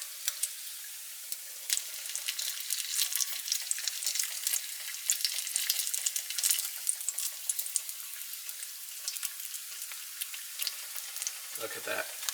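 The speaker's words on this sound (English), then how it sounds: "I usually cook the bacon at the back of the stove just in case it does splatter." Bacon fries in a cast iron pan at the back of the stove with a fine, constant crackling sizzle and scattered sharp pops. It stays fairly quiet and close, and a brief low clunk comes near the end.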